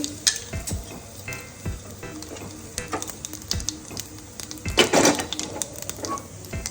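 Cumin and asafoetida tempering in hot oil for a chutney, quiet uneven sizzling with sharp crackles and occasional pan clinks, one louder burst near the end, no voices.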